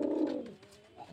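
Racing pigeons at a bird sale in Murshidabad give a low, close coo that swells and fades, followed by a softer second coo.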